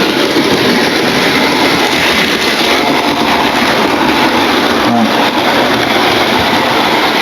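A model railway Flying Scotsman locomotive runs along the track of a home layout, producing a loud, steady close rumble and whir with no break.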